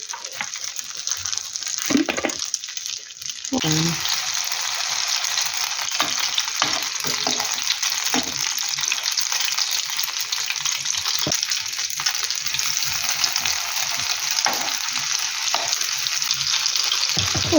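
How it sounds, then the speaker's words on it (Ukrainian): Oil sizzles steadily and loudly in a pan of frying potato pancakes made from new potatoes, with occasional scrapes and light taps from a utensil. "таких ще поставила смажити"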